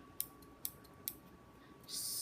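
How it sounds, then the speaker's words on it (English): Small folding Slip and Snip scissors handled up close, with three crisp separate snips or clicks at a steady pace, then a brief soft rustle at the end, all quiet and isolated. "They're called Slip and Snip. So they literally just fold up and they're fun to play with."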